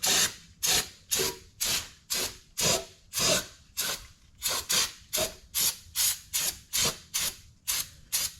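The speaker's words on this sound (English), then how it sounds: "I'm gonna take a little bit of brake clean to this deal." Brake cleaner hisses from an aerosol can onto an engine part during a timing rebuild, in about seventeen short, evenly spaced bursts, close and steady, with no talking.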